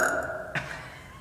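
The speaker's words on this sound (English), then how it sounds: "I need to hurry up and try and burp" A person gives a single short burp midway, a brief throaty belch that is fairly quiet, with a few faint ticks around it and no talk.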